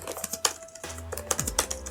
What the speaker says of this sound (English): Am I sort of cheating by typing?